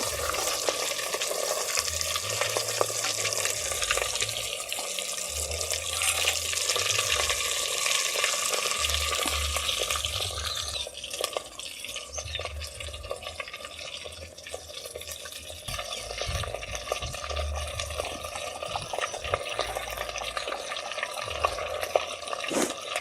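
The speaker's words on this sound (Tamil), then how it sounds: "இந்த மாதிரி பொன்னிறமாக நம்ம பொரிச்சுக்கணும்." Aloo paneer kofta balls frying in oil over medium heat in a clay pot, a steady close bubbling sizzle with occasional stirring and dripping, no talk.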